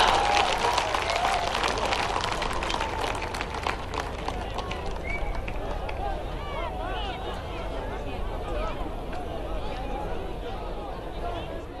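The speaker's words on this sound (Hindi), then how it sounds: "तालियों की गड़गड़ाहट से स्वागत करें माननीय प्रधानमंत्री जी का" A huge crowd at a large public rally for Prime Minister Narendra Modi claps in a dense, sustained roar of applause that fills the whole stretch, with crowd murmur blended in.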